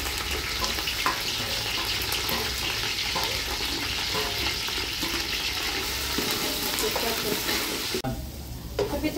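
Food stirred and fried in a pan for a Ramzan meal: a constant close sizzle mixed with scraping and tossing, then a sudden quieter stretch at the end.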